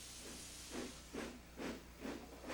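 Rhythmic steam puffs from a locomotive, four or five breathy chuffs at a steady pace over a constant hiss, with no one speaking.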